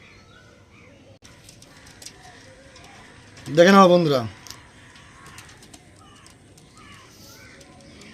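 One Andhra Kalshira pigeon gives a single loud, close coo lasting under a second, between stretches of quiet background and someone speaking briefly.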